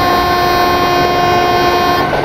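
A WAG 7 electric locomotive in a train simulator game runs under power, a loud steady mechanical drone with sustained horn-like tones throughout and no talking.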